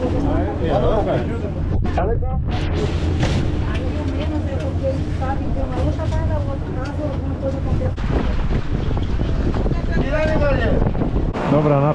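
A small boat motors across open water in the San Blas Islands of Panama, with a steady engine drone mixed with wind buffeting and splashing, under people talking.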